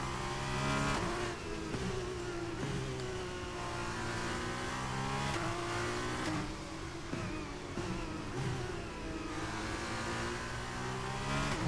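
Race car engine in the F1 23 racing game revving hard and steadily through the whole stretch, with repeated rising gear-change sweeps and brief throttle lifts, loud and close with no talk.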